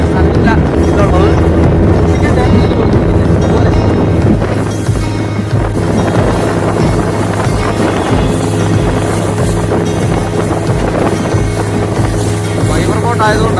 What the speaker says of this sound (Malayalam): ഫൈബർ ബോട്ട് ആയതുകൊണ്ടാണ് നല്ല സ്പീഡുമാണ്